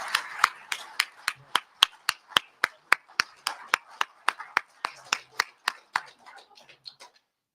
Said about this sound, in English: I'd like everybody to give applause to Theodore Postal and Colonel Wilkerson